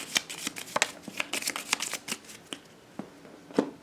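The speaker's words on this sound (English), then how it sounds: "shuffle this card back into the findings pile" Cards for the This War of Mine board game are shuffled by hand, a close run of quick riffling snaps and flicks with uneven bursts and no talking.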